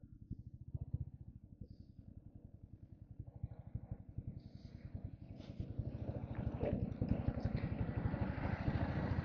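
A Royal Enfield Meteor 350 Supernova motorcycle thumps along at a steady, rapid engine pulse while being ridden home from an office, the throb building slightly louder as it goes, with wind noise rising.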